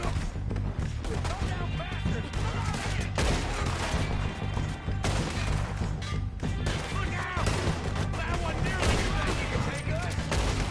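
Dense gunfire in the western video game Red Dead Redemption 2 keeps going throughout, a loud run of shots and crashes with short gaps, inside a full game soundtrack.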